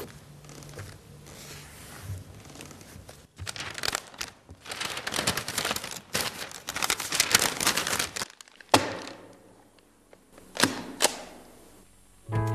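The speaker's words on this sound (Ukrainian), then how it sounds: "Наступний крок запаковуємо контрольні талони виборчих бюлетенів." Paper ballot control stubs being packed during vote counting at a 2012 Ukrainian polling station: bursts of crinkling, rustling paper and soft handling thunks, loud and close, with short pauses and no talk.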